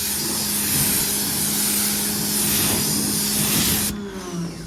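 A convertible car being rinsed with a water spray, a steady loud hiss of spraying water over a low motor hum, cutting off near the end.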